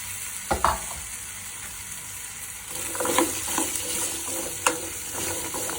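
Diced elephant foot yam frying in about two spoons of oil in a pan for sambar, a steady hiss of sizzling with a few clinks and scrapes from stirring, close and continuous.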